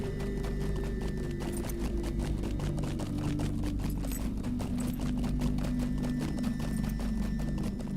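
Horse hooves clip-clop steadily in The Lord of the Rings Online, a fast, even beat of hoof strikes running throughout over a constant low game drone.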